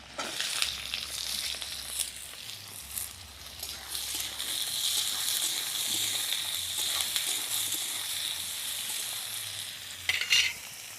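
Potatoes and eggplant fry with chopped onion and five-spice seeds in a covered pan, giving a steady close sizzle and crackle with occasional stirring scrapes, with no talk.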